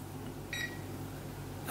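Two short electronic beeps from a Dell UP2716D monitor's on-screen menu, the second one brighter, sounding close and faint over a low steady hum.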